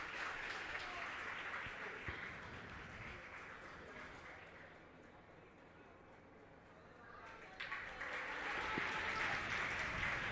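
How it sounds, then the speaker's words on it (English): Supporters at a Meath Hill versus Drumconrath junior championship football match give a round of applause for a substituted player, a faint, distant patter of clapping across an outdoor ground that swells again near the end. "Dano getting a good round of applause from all the supporters"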